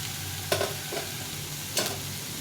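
Spice masala and boiled potatoes being sautéed in a pan, a constant sizzle broken by two distinct scraping strokes of a stirring spoon.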